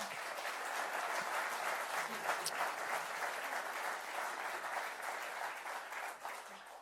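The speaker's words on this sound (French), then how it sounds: "on peut applaudir l'équipe Atria" An audience applauds the Atria cycling team at its team presentation, giving a fairly quiet but steady wash of many hands clapping that runs on throughout and tapers slightly at the end.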